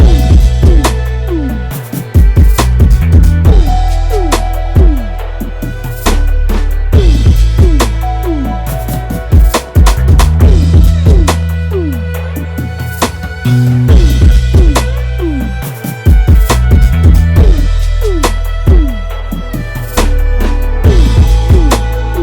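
Loud 2000s R&B style beat with punchy kicks, crisp drums and a looping melody, steady groove throughout with no voice.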